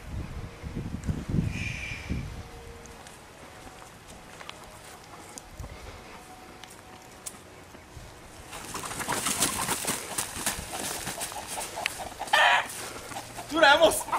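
Chicken clucks and squawks in World of Warcraft, bursts of bird calls near the start and again toward the end, with busy game noise and music swelling in the second half.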